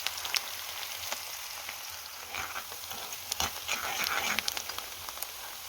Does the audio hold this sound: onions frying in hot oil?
yes